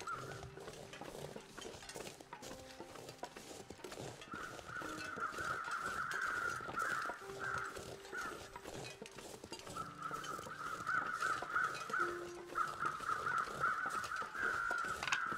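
Crows in the survival game The Long Dark caw in repeated bursts, harsh calls coming in clusters over a soft, steady ambient bed, some louder and nearer toward the end.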